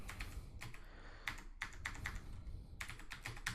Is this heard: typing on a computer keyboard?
yes